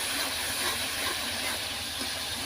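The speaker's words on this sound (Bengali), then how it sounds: "তো এই যে মশলাটা কষিয়ে নিচ্ছি" Spice paste for chicken roast fries in oil, making a continuous, even hiss with a faint low rumble, with no voices.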